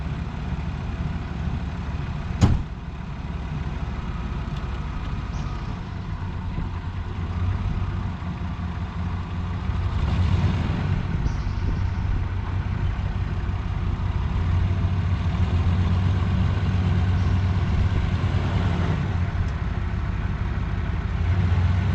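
A vehicle engine idles with a steady low rumble as it creeps up onto ramps for a fuel filter replacement, holding close and constant, swelling slightly partway through, with one sharp knock early on.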